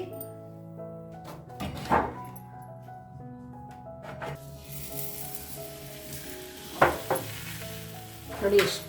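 Thin flatbread made with urad dal cooking in oil on a pan over high flame, a low sizzle broken by several knocks and thuds of a utensil against the pan.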